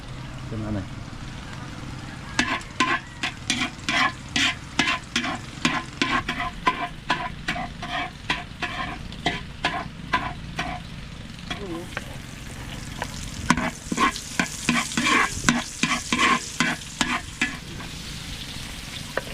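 Food fries in oil in a pan while a ladle stirs it, rhythmic scraping strokes over a constant sizzle, with someone talking over the cooking.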